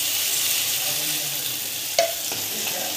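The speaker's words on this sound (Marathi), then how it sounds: "थोडंसं फ्राय करूया." Mustard seeds, crushed chili, garlic, ginger and cumin fry in hot oil with a steady close sizzle, a sharp utensil clink partway through and light stirring noises, with no one talking.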